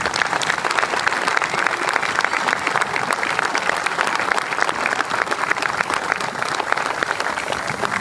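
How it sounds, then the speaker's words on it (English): Loud, dense applause from an outdoor crowd at a New York State Police special operations team demonstration, a steady roar of many hands clapping without pause. "we think it's those guys that deserve the real round of applause today"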